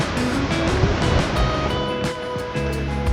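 Ocean waves surge and break at Kovalam Beach in Kerala, a steady close wash of surf filling the scene with no voices.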